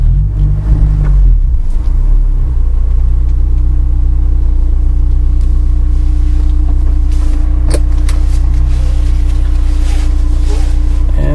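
A 2001 Silverstone Honda S2000 with intake, header and exhaust mods idles as it pulls into a garage, with a loud, continuous deep rumble. A brief throatier burst comes at the start, then a steady drone holds throughout.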